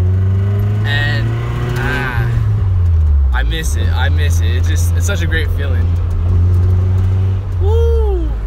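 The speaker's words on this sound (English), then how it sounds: "I'm gonna go put some gas and just drive it around, you know, enjoy my car." A car engine drones steadily through the whole stretch while being driven on a casual gas-station run, a loud low hum with slight shifts in pitch, under someone talking throughout.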